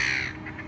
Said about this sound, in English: now we're being stalked by the seagulls